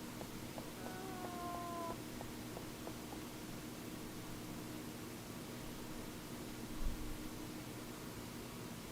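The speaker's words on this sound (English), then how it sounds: "Kitty. It's the same cat from before." Cat in the Wii video game Fragile Dreams, a short, faint meow early on over a steady hiss of background noise, followed by quiet ambience.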